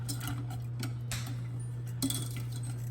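Semi-sweet baking chocolate is stirred in a pot until it melts, giving a few light spoon clinks and scrapes against the pan over a steady low hum, with one louder clink near the end.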